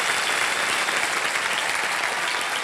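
Dense, continuous studio audience applause on a televised quiz show, loud and steady throughout with no talking over it.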